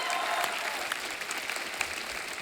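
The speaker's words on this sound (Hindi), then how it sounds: "तालियां।" A studio audience at a comedy talk show breaks into loud, sustained applause, a dense wash of clapping that stays steady and close throughout.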